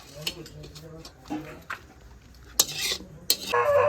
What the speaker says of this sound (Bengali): আমি মাংসটা গামলায় ঢেলে নিলাম